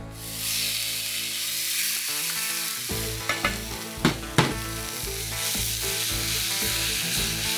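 Chorizo sizzling on a Weber kettle grill, a steady dense crackle throughout with musical tones underneath and a few sharp clanks near the middle.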